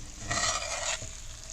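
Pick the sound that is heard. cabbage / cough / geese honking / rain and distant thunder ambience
cabbage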